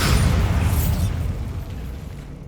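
A Bombarda spell explosion in the video game Hogwarts Legacy: a loud, close blast with a bright burst at the start, trailing off into a deep rumble over a couple of seconds, with no voices.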